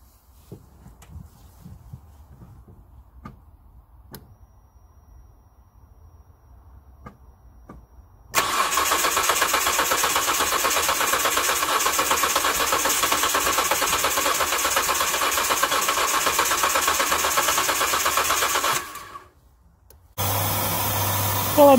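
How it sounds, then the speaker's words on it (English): A Hyundai Santa Fe V6 with a non-starting fault cranks and catches after a few quiet clicks, then runs loudly and steadily for about ten seconds before a brief dip and a rough restart, close by with no talk. "It took a few coughs, but it's fired up and it's running"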